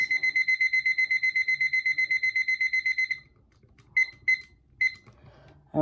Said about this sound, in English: Let me go and set this timer.